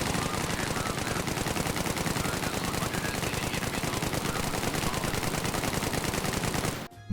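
Sustained, rapid SAW light machine gun fire in a milsim shooter game, a loud continuous burst of dense rhythmic shots lasting several seconds before cutting off abruptly.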